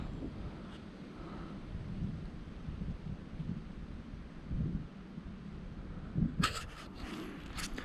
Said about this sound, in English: The wind is kicking. Storm is coming.